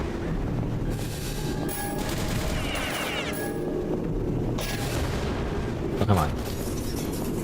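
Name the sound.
rocket launcher shots hitting a tank in a video game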